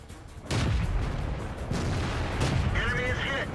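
A tank cannon shot strikes an enemy VK tank in a World of Tanks style battle, a heavy boom landing on top of a steady rumble of engine and battlefield noise, with a voice talking over it.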